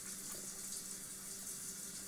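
A shower runs in The Sims 4, a steady, hissing spray of water at low level with no other sounds over it.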